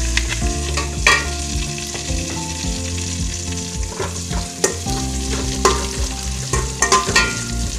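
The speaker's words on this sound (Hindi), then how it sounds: "इसमें अभी हरी मिर्च जो हमने काट के रखी थी वो डालेंगे।" Chopped green chillies tossed into a hot frying pan for a village-style dish, crackling and sizzling in oil with scraping stirs and clinks of a utensil against the pan, close and loud with no speech.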